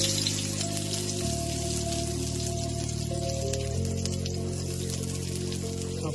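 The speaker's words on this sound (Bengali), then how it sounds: "শুকনো লঙ্কা, জিরা আর পেঁয়াজ দিয়ে ছকে নিই" Lentil dal made with bottle gourd sizzles steadily as it is tempered with dried chili, cumin and onion, a continuous close hiss under background music.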